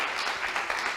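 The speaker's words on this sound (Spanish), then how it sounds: "este aplauso, sin lugar a dudas, es para la gente de Pevipe" Conference audience applauding in a hall, a dense steady wash of many hands clapping at moderate volume with no voices over it.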